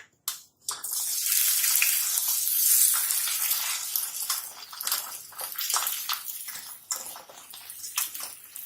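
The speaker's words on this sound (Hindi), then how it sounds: "अभी ऑयल गरम हो गया तो इसमें हाफ केजी भिंडी डालेंगे।" Half a kilo of okra drops into hot oil, setting off a loud, steady sizzle that fades and flickers with crackles and pops as frying continues, with no voices.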